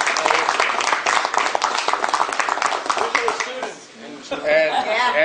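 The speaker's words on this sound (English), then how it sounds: "I hope you give a good round of applause for him." Audience applause at a lecture on the Magna Carta, a dense clatter of clapping that gradually thins out, giving way to a voice and light laughter near the end.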